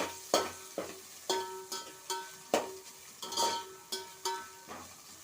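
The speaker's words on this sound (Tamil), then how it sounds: "இப்போ வெங்காயத்தை சேர்த்துக்கலாம் இது வந்து பொன்னிறமா வதக்கிக்கலாம்" Onions sautéing in a pan for chicken biryani, with a soft background sizzle and repeated sharp scrapes and clinks of a spoon stirring against the metal, close and fairly quiet, no voices.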